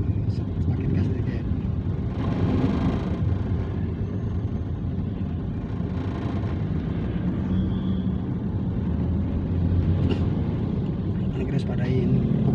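Toyota Calya manual car engine accelerating during a driving lesson, a low steady rumble with rising revs under an instructor's frequent spoken directions.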